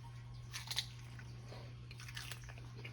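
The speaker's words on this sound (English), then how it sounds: "Got a nice crunch." A few faint crisp crunches and chewing come from close up as someone bites into a loaded Texas-style taco, soft and brief against a low steady hum, without talk.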